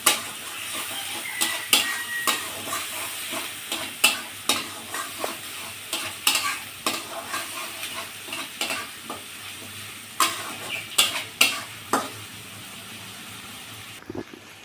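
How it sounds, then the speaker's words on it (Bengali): Spice paste with turmeric powder frying in a pan for fish kofta, a steady sizzle broken by repeated sharp scrapes and knocks of a spatula stirring against the pan, close and fairly loud, with no talking. "এবার দিয়ে দেবো হলুদ গুঁড়ো দিয়ে মশলাটা আমি সুন্দর করে কষিয়ে নেবো"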